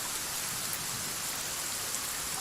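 Steady, even rain hiss patters continuously, with no distinct drops standing out and no voices.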